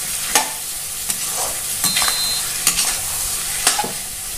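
Duck meat with white gourd is stirred in a frying pan, sizzling steadily in its own rendered fat while the spatula scrapes in sharp strokes about once a second, close and loud.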